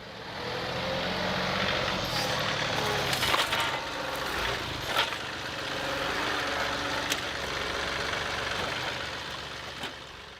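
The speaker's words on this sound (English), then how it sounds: "use the tractor like a bulldozer and see if I can just shove this pile out of my way" A tractor engine running steadily under load while a grapple shoves a pile of big logs like a bulldozer, a loud continuous mechanical drone with occasional knocks and thuds of wood shifting.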